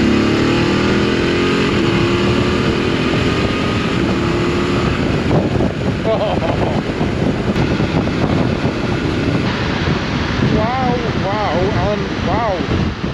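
A Voge DS900X motorcycle cruises at motorway speed on a windy day, its engine drone buried under heavy, constant wind roar, with the rider speaking over the noise.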